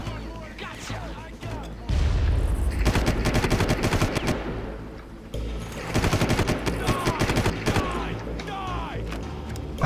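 Machine gun fire in the video game Far Cry: dense, loud bursts of rapid automatic shots with sharp impacts, pausing briefly near the middle before another sustained volley, with a voice talking over the action.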